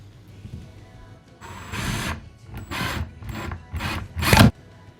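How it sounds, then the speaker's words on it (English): A power drill drives a screw through a bench support into solid timber wall studs during a laundry renovation, heard as four rising bursts of whirring, the last one loudest and sharpest, separated by short pauses with faint background hum. "I'm actually drilling directly into timber, so it's nice and solidly attached to that wall."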